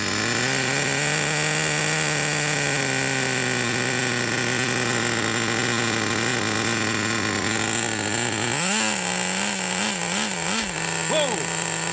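A Traxxas T-Maxx Pro 15 nitro RC truck engine runs steadily and loud, then sputters and rises in pitch near the end as the throttle is blipped.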